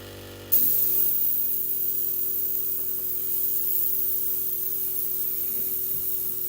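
Spray primer hisses onto a Warhammer miniature in one steady, close burst that starts abruptly and runs unbroken, with a faint low hum underneath.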